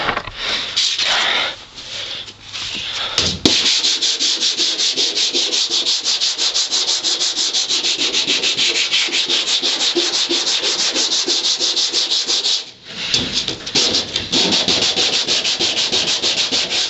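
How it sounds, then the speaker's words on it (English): Sandpaper scrubs by hand at rust on the floorpan of a 1962 Ford Falcon. The close, loud, continuous rasping scratching sound carries on without speech and pauses briefly about twice. "Just sand it out, get as close as you can to bare metal, and then treat the rest."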